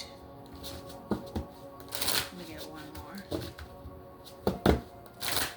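Tarot cards being shuffled and drawn, with repeated crisp riffles and slaps of card stock spread over several seconds at close range, without talk.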